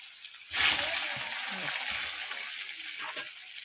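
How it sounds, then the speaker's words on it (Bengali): Potatoes drop into hot oil in a wok, bursting into a sudden loud sizzle that settles into a steady frying hiss with faint stirring scrapes. "কড়াইতে দিয়ে দিয়েছি তেল, দিয়ে আলুটা আগে ভেজে নেব"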